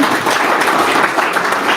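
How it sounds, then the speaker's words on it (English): Audience at a tech meetup applauding a speaker after a talk on marketing mix models, a brief, dense burst of close clapping from a room of people. "Round of applause for our speaker."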